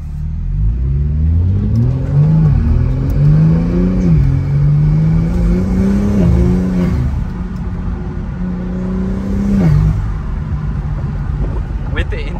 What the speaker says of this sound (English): There's so much turbo noise, and now you can actually hear the exhaust.